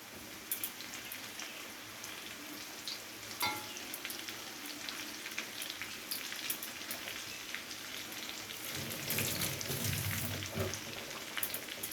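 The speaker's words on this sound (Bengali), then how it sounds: "এবারে এগুলোকে একসাথে খুব ভালো করে ভেজে নেব।" Chopped ginger and green chilli for a paneer masala fry together in hot oil, a soft steady sizzle with light crackling pops and a brief stirring scrape, quiet and close.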